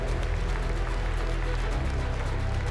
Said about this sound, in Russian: Коллеги, ваши аплодисменты.